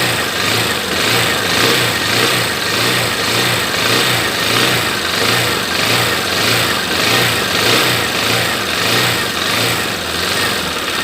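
A 2015 Honda NXR 160 Bros ESD motorcycle engine, which misfires at high revs once warm, holds steady at moderately raised revs around 2000 RPM with a close, loud, even throb and gentle pulsing, no voices over it.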